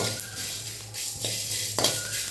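Dried red chillies being lightly roasted in a pan while making pulicha keerai, giving a soft dry sizzle with a few scraping stirs and utensil knocks against the pan, close and fairly quiet.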